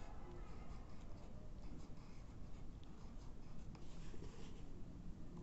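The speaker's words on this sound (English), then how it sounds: "So we'll write Maya." A pen writes an answer in a book, a soft continuous scratchy rubbing of pen on paper, quiet and close, with no talk over it.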